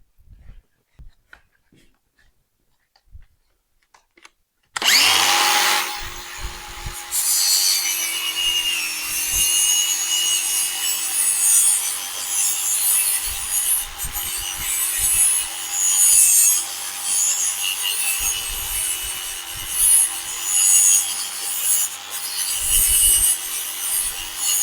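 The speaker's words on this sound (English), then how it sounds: "I think the only thing to do is get at it with a grinder." An angle grinder cuts into a 1948 Willys pickup, its harsh, steady whine starting abruptly after a few seconds of near silence and carrying on, up close, to the end.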